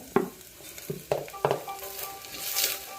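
Ginger and curry leaves are sautéed in a pan for green peas masala: a few sharp utensil knocks and scrapes over a rising sizzle, up close.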